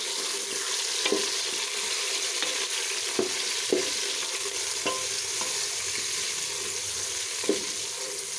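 Chicken pieces sizzle steadily in a pan for shalgam gosht, a constant hiss of frying broken by occasional sharp clicks of a utensil stirring against the metal.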